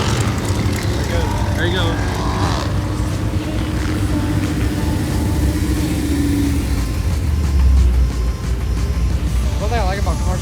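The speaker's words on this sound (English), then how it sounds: "Oh, I hear the C7 ripping." A Chevrolet Corvette C7 revs loudly at a police-hosted car show, its deep engine rumble running steadily beneath close conversation.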